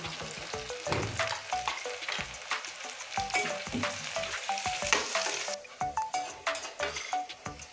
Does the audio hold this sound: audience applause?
no